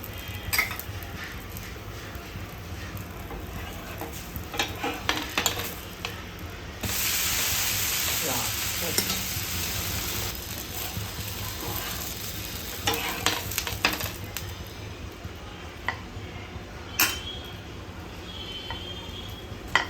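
A dosa fries in oil on a hot pan, with a close, steady sizzle that swells loudly as oil is added, dotted with light scraping and clatter from the pan.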